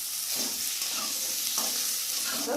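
Boiled potatoes hit hot oil in a village kitchen pan, crackling and sizzling steadily while a spoon scrapes and stirs through them, close and continuous.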